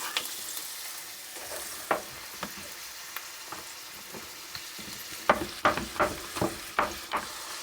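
Finely chopped, thinly sliced vegetables frying in oil for shakshuka, a soft steady sizzle broken by sharp stirring scrapes and clacks that grow louder and more frequent toward the end, with no talk.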